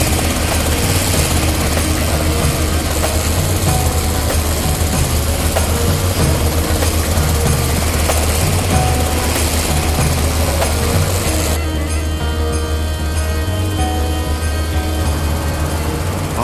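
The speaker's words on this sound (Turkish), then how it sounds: "Abi, helikopter yanımızda." A civilian helicopter flies close alongside, its rotor and engine roar loud and continuous throughout, with no voices over it.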